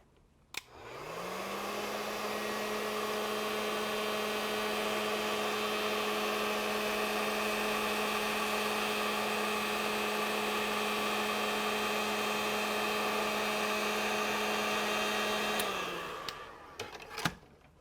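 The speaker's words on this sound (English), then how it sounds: "A lot of people will use a lighter for doing heat shrink. I really prefer a heat gun." A heat gun shrinks heat-shrink tubing over a soldered Deans plug connection, making a steady, loud airy roar with a low motor hum that starts abruptly, holds evenly for about fifteen seconds, then cuts off.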